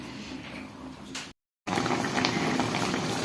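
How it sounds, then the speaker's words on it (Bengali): Bottle gourd simmering in a pot on a home stove, giving a steady bubbling and hissing wash that runs close and even, broken by a brief full silence before resuming. "চুলোর উপরে লাউ রান্না হচ্ছে।"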